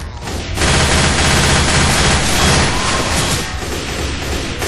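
Zombies gunned down in Left 4 GoldenEye, a dense, loud, continuous barrage of rapid gunfire filling the whole stretch with no talk over it.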